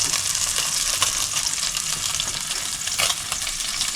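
Salmon fries skin-side down in a pan with a loud, steady sizzle and crackle. Slight spits and pops rise and fall over the continuous frying, close by and without voices.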